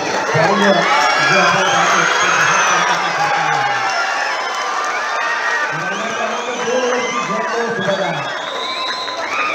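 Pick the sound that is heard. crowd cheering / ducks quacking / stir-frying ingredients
crowd cheering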